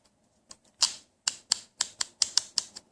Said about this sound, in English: the clicking, if I could do this with one hand here